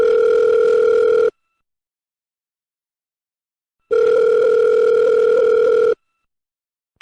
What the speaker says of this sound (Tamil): செல்லு யாரோ ஃபோன் பண்றாங்க